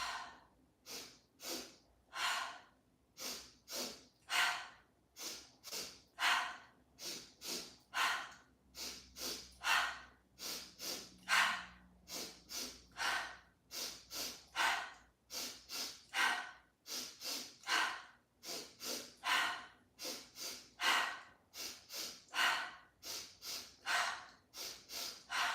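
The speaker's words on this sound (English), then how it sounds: "We're going to inhale through the nose 2 times. Exhale 1 time." Yoga breath work with a double sniff in through the nose and one exhale, repeated over and over in a steady rhythm, close to the microphone and loud, with no talking.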